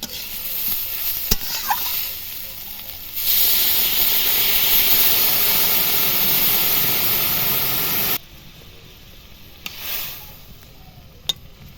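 A hot pan of egg curry bursts into a loud, steady sizzle and steam hiss when a little water is added, lasting several seconds before cutting off, with quieter stirring and clinks around it.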